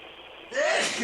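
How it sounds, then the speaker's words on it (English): A single sharp sneeze bursts out after a quiet half-second, loud and close, with a brief breathy tail. "I'm sorry, I sneeze when I get pissed off"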